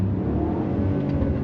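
BMW X5 50i with Valvetronic Designs universal mufflers, engine blipped with light throttle taps, a steady low rumbling exhaust drone held close and loud throughout with no talk.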